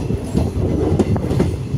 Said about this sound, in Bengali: এখন আমরা ঢুকছি বোকাজান রেল স্টেশনে।